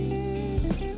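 Warm water runs steadily from a tap into a container for dyeing silk fiber blue, a close, continuous hiss and splash with a brief gurgle partway through, and no voices.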